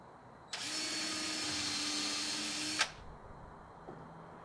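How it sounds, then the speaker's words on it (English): A power drill whirs steadily for about two seconds, driving a screw into clamped plywood, close and loud, then stops abruptly with a short clunk and faint afterward rattle. "burn some screws in"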